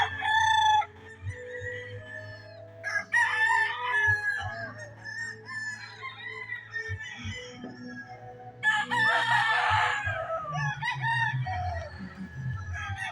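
Gamecock roosters crowing one after another at a fighting-cock farm, loud and close with clucking between crows, over a steady low hum.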